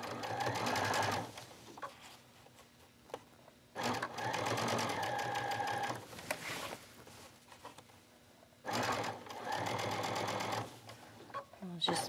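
A sewing machine stitches bias trim around a garment neckline in three sustained runs of rapid, even mechanical whirring. Quieter pauses separate the runs, with faint handling sounds in between.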